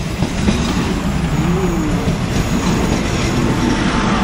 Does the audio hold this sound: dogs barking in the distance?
no